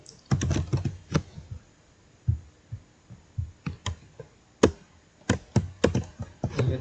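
Someone types a password on a computer keyboard while installing Moodle on Ubuntu Server 20.04, close, with irregular bursts of clicky keystrokes separated by short pauses.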